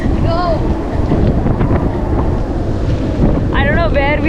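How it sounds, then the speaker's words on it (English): Strong wind roars and buffets the microphone on a valley road, a loud continuous rushing noise throughout, with brief whistling or squealing tones near the start and end. "Is that wind?"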